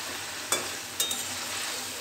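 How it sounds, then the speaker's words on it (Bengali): Spiced potatoes being stirred and sautéed in a pan for a thin tengra fish curry with eggplant. Soft frying hiss runs throughout, with a few sharp scrapes and knocks of the spoon against the pan. "আলুটা একটু কষে নি, আমি একটু ঢেকে দিই"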